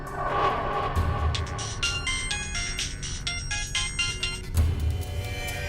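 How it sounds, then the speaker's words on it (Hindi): A phone ringtone playing a repeated electronic melody in a home, bright chiming notes in a steady looping pattern over a low background hum, with no talking. "मेरे घर से फोन आ रहा है"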